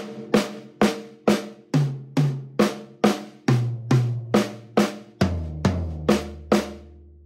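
Sixteenth-note strokes on a drum kit land in an even rhythm, each sharp hit ringing briefly as the pattern steps from the snare down to lower, deeper toms.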